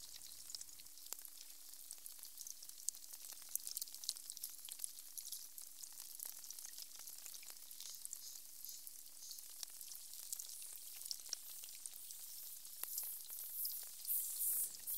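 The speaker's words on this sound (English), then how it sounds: "You're still hearing the barnacle sounds, and already they're changing." Barnacles crackling on a beach, a faint, dense fizz of tiny clicks and pops that continues steadily, heard close and alone with a low hum beneath.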